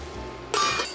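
Metal lid set onto a cooking pot of orzo and peas, a sharp clanking contact followed by a brief second clink, close and alone over a faint hum.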